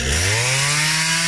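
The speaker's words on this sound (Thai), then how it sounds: "เทคนิคในการสอนตัดต้นไม้โดยการใช้เลื่อยยนต์" A chainsaw roars loudly and close, its engine pitch dropping and bogging down as it cuts into a tree.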